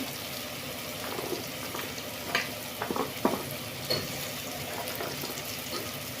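Potatoes, carrots and beans stirred and frying in a pan for wheat vegetable palav, a steady close sizzle with scraping spoon strokes and a few sharper clinks, no talking.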